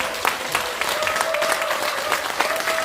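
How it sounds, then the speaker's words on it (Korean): A seminar audience gives warm applause for two honoured company heads, a lively spread of many clapping hands with distinct sharper claps popping through, steady and fairly close. "뜨거운 박수로 격려하시면 고맙습니다"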